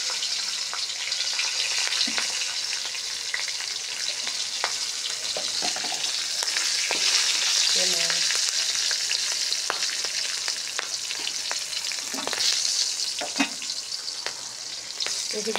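Green chillies and panch phoron spices frying in oil, a steady bright crackling sizzle running throughout with occasional stirring scrapes, close and loud.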